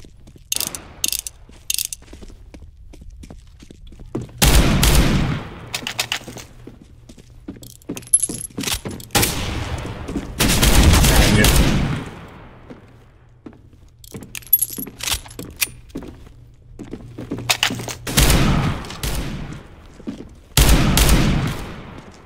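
R8 revolver shots in a video game come in loud, sharp bursts with long decaying tails, spaced irregularly among mechanical clicks and ratcheting handling sounds and quiet gaps.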